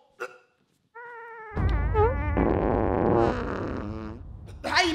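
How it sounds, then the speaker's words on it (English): A man lets out a loud, drawn-out fart during a casual basketball game, a low rumbling burst lasting a couple of seconds, with voices and other noises around it. "I know this man did not just fart and not say excuse me or nothing"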